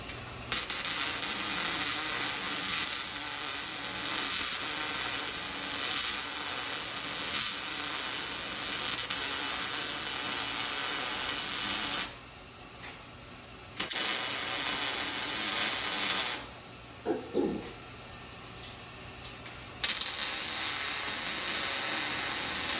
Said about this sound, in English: let's weld a few of them up here